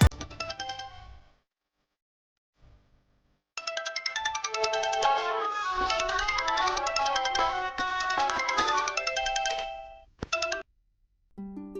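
A phone ringtone plays a bright melodic tune, starting briefly, pausing, then ringing continuously for several seconds before cutting off.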